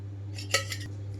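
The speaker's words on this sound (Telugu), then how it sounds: "ఇక్కడైతే స్టవ్ ఆన్ చేసి వేరే పాన్ పెట్టుకున్నాను" A cooking pan set down on a kitchen stove, a quick pair of light metallic clinks over a low steady hum.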